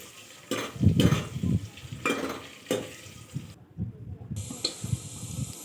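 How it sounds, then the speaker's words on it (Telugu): Chicken curry frying in oil in a pan, Telangana style, stirred with a utensil: repeated scraping and clinking strokes over a low sizzle, close and moderately loud, with no talking. "నూనె వేసుకున్నాక వచ్చిందాక కలుపుకుంటుండాలి ఎర్రగా అయిందాక."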